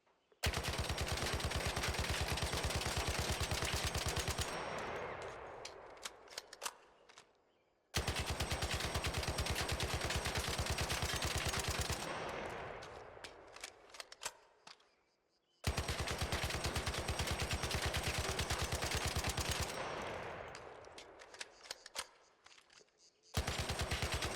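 Tempest gun in the ARC Raiders video game, fitted with an extended barrel, fires three long full-magazine bursts. Each burst is a loud, continuous stream of rapid shots that ends in a fading echo before the next begins. No one speaks.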